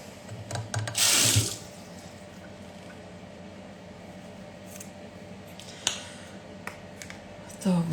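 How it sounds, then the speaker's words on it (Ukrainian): Tap water runs into a sink while dentures are being cleaned, a steady close splashing flow with a louder gush near the start and small clicks and handling noises throughout. "Чистим свої ставні зуби."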